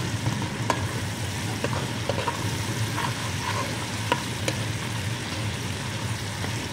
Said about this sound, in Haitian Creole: met ti kokoye a fri